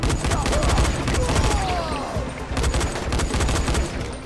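Rapid bursts of gunfire in the video game Dying Light: The Following crackle continuously in dense volleys, with a voice talking faintly underneath.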